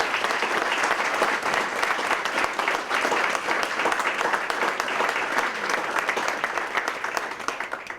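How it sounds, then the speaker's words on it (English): An audience at a school awards breakfast applauds students with dense, steady clapping that holds at full strength for several seconds and tapers slightly at the end. "We really appreciate one round of applause for the students"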